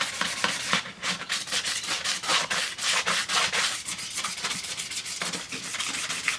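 An old sander scuffs the surface of a Jeep wheel to prep it for paint, giving a steady, close, gritty rubbing rasp with rhythmic strokes throughout and no talking over it.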